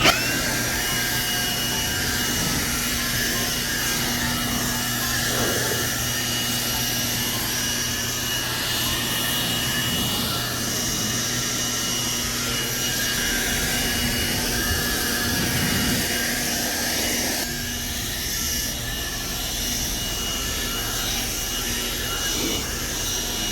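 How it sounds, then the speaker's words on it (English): A loud, continuous whooshing roar of a small Milwaukee leaf blower with a short nozzle running steadily nearby, drying water off a ceramic-coated car, with a high motor whine and slight shifts as it moves. "I've got here a little Milwaukee leaf blower here with a short nozzle"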